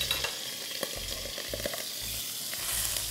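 Chicken sizzles and fries with garlic in a karahi for Balochi karahi, a steady close crackle with scattered sharper pops and stirring scrapes, no voices.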